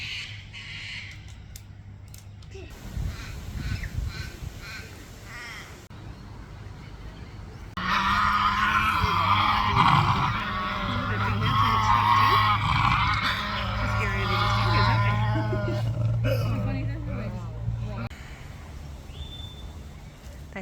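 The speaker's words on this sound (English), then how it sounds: "They sound so scary when they're squabbling." Tasmanian devils at a wildlife park near Melbourne break into harsh, growling screeches and snarls of a squabble, loud and raspy for several seconds, with people talking nearby before and during.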